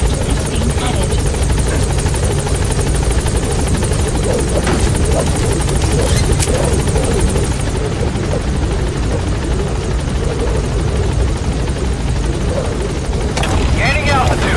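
The B-Quad helicopter in the video game Metal Gear Solid V: The Phantom Pain sends out a loud, constant rotor drone and engine whine that fill the whole stretch, with game voices speaking over it.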